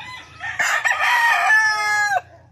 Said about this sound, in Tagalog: Ito pa yung isang broodcock.